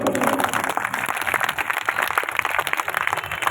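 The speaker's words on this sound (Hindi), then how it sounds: "उनके लिए एक बार जोरदार तालियां बजाएं।" A crowd applauds steadily at a trade union workers' rally, dense clapping that stays loud and continuous throughout with little let-up.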